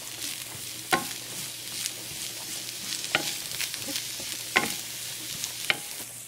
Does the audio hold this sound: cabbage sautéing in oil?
yes